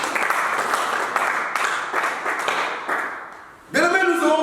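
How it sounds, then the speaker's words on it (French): A church congregation applauds steadily for several seconds, loud and close, before a voice breaks in at the end. "acclame le Seigneur, acclame le Seigneur"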